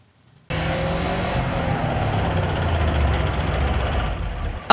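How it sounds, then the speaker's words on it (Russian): A car with a loudly roaring exhaust muffler drives along Lenin Avenue; after a brief quiet moment a close, steady engine roar starts suddenly and holds loud to the end. "Инспекторов смутил ревущий на весь проспект глушитель."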